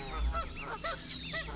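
Repeated nasal honks from a farm goose, about five calls in a quick irregular series, close and clear with no voices.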